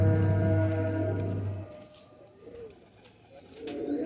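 Soft, low cooing from a pair of male and female high flyer pigeons, quiet and close, following a louder steady hum at the start, with no talking.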